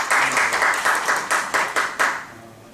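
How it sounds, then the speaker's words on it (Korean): A lecture audience applauding a speaker after a class on making SNS content. The group claps in a quick, rhythmic run of about eight close bursts that fade at the end, with no talking. "일단 박수 한번 드리겠습니다."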